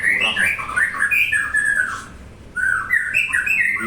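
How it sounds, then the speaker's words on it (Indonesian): Magpie robins in a breeding cage sing and chatter loudly and close, a busy run of bright whistled phrases and chirps with a brief pause midway. "Inilah namanya di kandang burung berisik."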